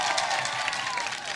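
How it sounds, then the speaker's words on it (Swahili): Crowd applause at an outdoor political event in Garissa, Kenya, a dense, steady wash of clapping filling the short moment without a break. "pigeni makofi"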